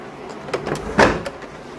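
A hotel room front door opens or closes with a few close clunks and a firm knock of the latch, short and fairly loud.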